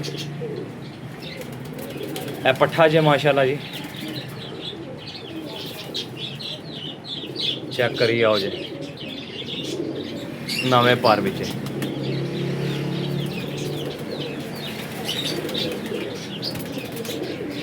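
Pigeons coo softly amid a busy, rustling background, with occasional wing flaps and someone speaking in short bursts over them.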